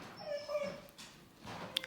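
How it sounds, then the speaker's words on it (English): A dog whimpers and whines softly in a home, thin high cries fading in and out against a quiet room, with a faint rustle near the end. "Please excuse my dog."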